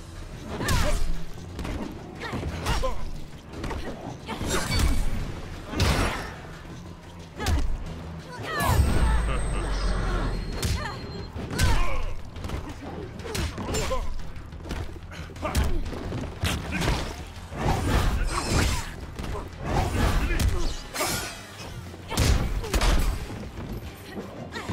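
Mortal Kombat X fight against Jacqui Briggs with shotgun blasts: repeated loud impacts, thuds, whooshes and gunshot bursts in a busy continuous melee, with grunting voices throughout.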